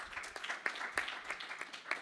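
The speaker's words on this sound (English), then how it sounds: "Please give him a big round of applause as he comes in." Light clapping from a conference audience welcoming a panel speaker at an African smart cities event, thin and scattered with a few distinct claps standing out, fairly faint.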